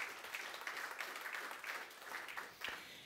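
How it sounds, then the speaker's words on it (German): Audience applause at a German rail-transport panel event, a short burst of clapping heard faintly and at a distance, fairly even in level throughout. "Ein Applaus für Martin Seiler, bitte"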